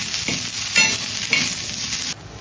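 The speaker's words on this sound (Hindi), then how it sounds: "फर्स्ट इचे प्याज भून रही हूँ, देखो रत्ती चुत्ती तेल डाल लेना।" Onions fry in a little oil with a loud, close, steady sizzle broken by a few stirring scrapes, then the sound drops off suddenly.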